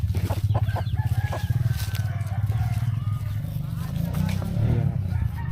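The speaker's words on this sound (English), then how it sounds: "Chicken." Chickens on a mountain farm, a rooster crowing and hens clucking nearby amid a steady hum, while people talk over the birds throughout.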